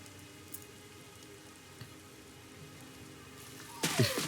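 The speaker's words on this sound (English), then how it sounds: "It's raining." Steady, faint rain hisses in the Rain Code video game, a soft continuous patter with a few small ticks and a brief louder rustle near the end. No one speaks.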